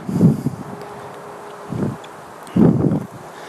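Wind buffets the microphone in three low, rumbling gusts, separated by quieter stretches of background noise.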